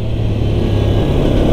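A GPX Demon GR200R SE 2022 motorcycle engine drones steadily and close after a downshift on a test ride, a continuous loud hum with wind noise and no talking.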